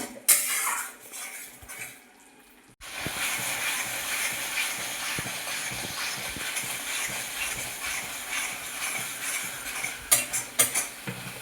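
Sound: stirring and sautéing masala spice paste in a pan

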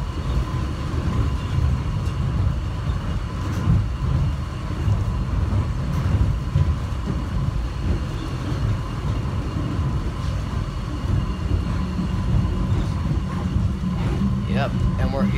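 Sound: subway train passing on the track

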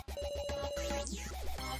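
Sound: phone ringtone in the video game Your Turn To Die

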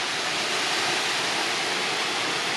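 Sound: small running waterfall

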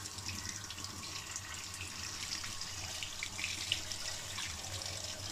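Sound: rinsing boiler fan motor with running water

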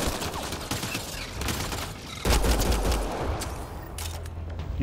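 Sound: gunfire in video game Mass Effect: Andromeda

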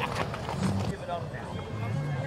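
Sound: horses' hooves clip-clopping during a cavalcade parade

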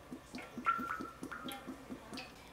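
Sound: oil poured into pan for frying tofu

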